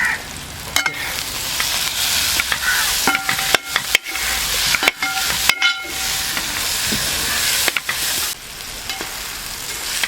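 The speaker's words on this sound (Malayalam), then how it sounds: "ഇതിലേക്കായിട്ട് വെളുത്തുള്ളി ചതച്ചത് കുറച്ച് ഇട്ട് കൊടുക്കുന്നുണ്ട്" Crushed garlic and ginger paste frying for a Kuttanadan duck roast, a steady loud sizzle and hiss broken by repeated scraping stirs and clatters throughout.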